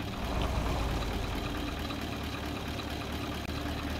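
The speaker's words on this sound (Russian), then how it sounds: "послушайте работу двигателя на холостых" A KamAZ 43118 truck's diesel engine idles steadily at close range, a continuous low rumble with an even, unbroken throb throughout and no talking.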